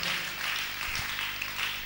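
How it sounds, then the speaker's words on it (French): Steady applause from a gathered crowd after a speaker's prompt, a dense, even wash of many hands clapping throughout, moderately loud with no talk over it. "Il faut l'applaudir quand même."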